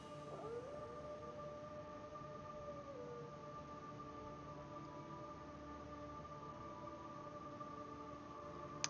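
Wolf Link's drawn-out, siren-like howl in The Legend of Zelda: Twilight Princess, a faint wavering tone that rises and falls over a steady bed of game music and ambience.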